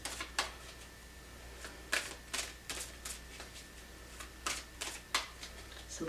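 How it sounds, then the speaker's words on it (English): Tarot cards are shuffled by hand in a string of quiet, sharp riffling bursts at an irregular pace, close by and fairly soft. "Sometimes when I shuffle these like this"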